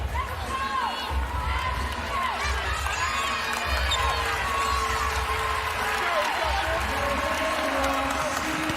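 Applause from Ohio State and Virginia Tech fans for an injured player's effort late in a 2023 NCAA women's Elite Eight basketball game, a steady arena-wide wash of clapping and crowd noise running under a commentator's voice throughout.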